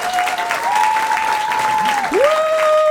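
A comedy club audience claps warmly and continuously for a few seconds, with a drawn-out whoop or vocal tone riding over the applause.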